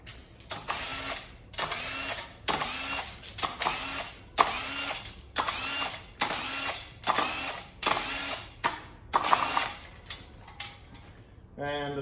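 Small impact gun spinning off the main cap bolts on a destroked 6-litre LS engine block, heard as about ten loud, evenly spaced rattling bursts, each about half a second long, close to the microphone with no talk.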